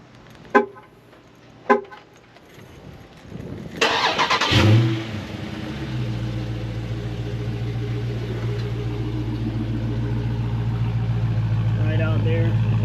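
A 2023 Dodge Challenger with bumblebee stripe fires up: two short sharp clicks, then the starter whirs and the engine catches with a loud rising roar before settling into a steady, deep idle rumble.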